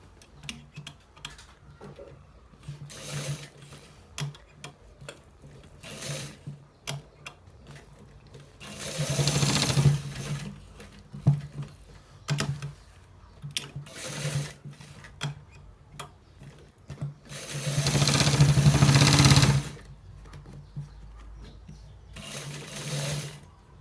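A sewing machine stitches a designer shirt collar in short bursts of rapid mechanical ticking, separated by quiet pauses, with two longer, louder runs of continuous stitching near the middle and toward the end.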